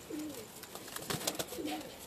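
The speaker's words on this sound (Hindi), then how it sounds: "एक और सलेटा कबूतर आ गया जी माशाल्लाह" Grey golden pigeon cooing on a rooftop, two soft repeated coos standing out against faint background noise.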